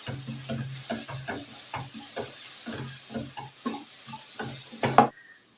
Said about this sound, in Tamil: மிளகு சீரகம் அரைச்சது வெங்காயம் அரைச்சது இதையும் நல்லா கிளறி விட்டுக்கலாம்